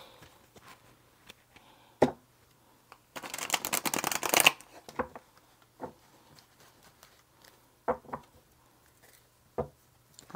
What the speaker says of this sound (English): Give me about 3 shuffles.